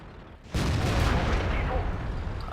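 A Centurion tank's cannon fires in World of Tanks, a sudden loud boom that cuts in abruptly and leaves a long, dense rumbling roar of battle noise trailing behind it.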